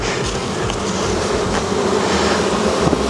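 A dense, continuous buzzing of many honey bees swarming close by around a hive, steady throughout with no voices.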